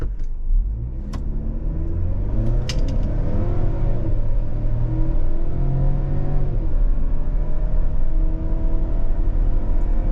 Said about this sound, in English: we'll go over that as soon as we do a quick 0 to 60